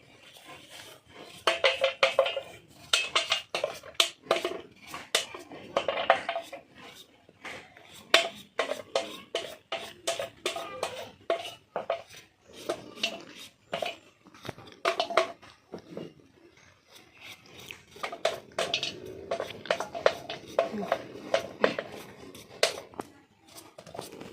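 Washed papaya cut into thin slices with a knife, giving a close, irregular run of sharp taps and clicks against a board, with brief scraping between cuts.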